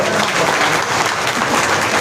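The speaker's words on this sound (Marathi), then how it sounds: "टाळ्या" Applause from a crowd at a political rally in Bhosari, a dense, loud, steady clapping that fills the whole moment without any talk.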